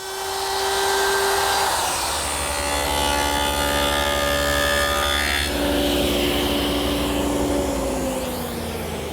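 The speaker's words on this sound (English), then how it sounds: "Now I'm just rounding over the inside and then the outside edge with this 3/8 inch radius roundover bit." A router with a 3/8 inch roundover bit shaping the inside and outside edges of a wooden frame, a loud sustained whine with shifting pitch as it cuts, no talking.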